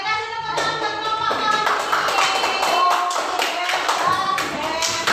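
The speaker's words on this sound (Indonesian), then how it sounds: "kasih tepuk tangan buat kelompok" A classroom group gets applause as many hands clap at once in a close, dense patter that swells and carries on steadily, while a teacher's voice speaks briefly over the start.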